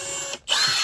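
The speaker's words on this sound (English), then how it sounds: "What I'm going to do is just drill pilot holes in their holes that they've got here" A power drill whirs at high speed, briefly cutting out, then spinning up again with a rising whine as it bites into a thrift store mirror frame, drilling pilot holes.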